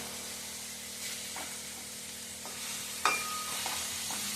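Tomatoes and ridge gourd pieces cook in a pan over a village fire, a soft continuous sizzle with a few faint stirring scrapes and clinks, quiet and without talk.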